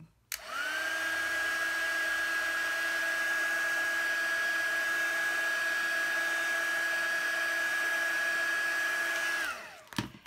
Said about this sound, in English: get your heat tool out and heat up that tape a little bit